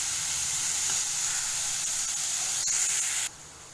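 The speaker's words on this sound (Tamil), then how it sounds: "வெங்காயம் நல்லா வதங்கட்டும்." Onions sizzle steadily in a hot pan with a bright, continuous hiss while being sautéed with a little salt, cutting off abruptly near the end.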